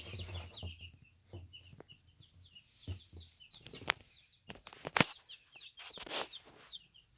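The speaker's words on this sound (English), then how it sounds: "So there's your chickies" Cornish Rock chicks in a warm covered brooder, a steady faint chorus of high peeping with scattered clucks, light rustling and a few sharp knocks, nearby and without speech.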